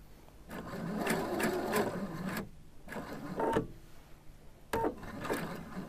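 A domestic sewing machine stitches along a fabric edge while sewing a faced slit, running in several bursts with short pauses between them, close and fairly loud with no talking.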